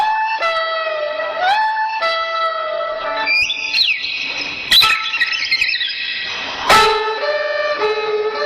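Bird song with whistled, tonal chirps and trills repeating in phrases, clear and fairly close, some overlapping calls and a few sharp squawks, no talking.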